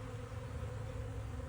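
A swarm of bees drones in a low, even buzz during a swarm capture, faint and steady throughout with no voices.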